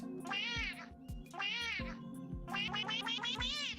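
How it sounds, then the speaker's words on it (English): Repeated meows from a cat in the Roblox game, four drawn-out calls in steady succession with soft thumps underneath, loud and close with no talking. "Here we have Maxwell the cat."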